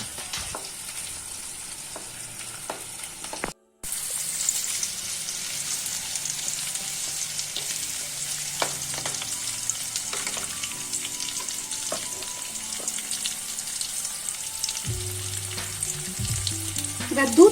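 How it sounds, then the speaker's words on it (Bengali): Chitol fish muitha mixture stirred and frying in a hot pan, a continuous sizzle with scraping spoon strokes running throughout, briefly cut off once early, with some clattering near the end. "10-15 সেকেন্ড নাড়িয়ে নিচ্ছি।"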